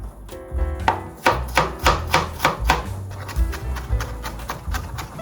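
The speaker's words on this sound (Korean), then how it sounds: "마늘 다지는 게 제일 어려운 과정입니다." Garlic is minced with a knife on a cutting board in a quick, steady series of close, crisp chops, with no voices.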